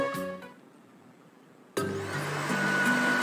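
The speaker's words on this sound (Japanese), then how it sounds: "俺は掃除機を引っ張り出してきた。" A household vacuum cleaner in a visual novel game switches on abruptly after a quiet stretch and then runs with a loud, steady whine, after a brief earlier burst of the same motor.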